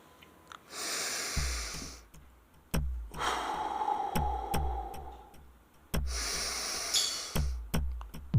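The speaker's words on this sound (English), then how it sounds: "we're going to take 3 deep breaths and then begin." Several slow, deep breaths, each a long airy inhale or exhale rising and fading, heard close up with a soft, steady ticking in the background.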